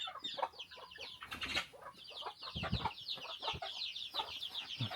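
Hens cluck in quick, chattering bursts nearby, a steady stream of soft, overlapping clucks with some low bumps and rustling underneath.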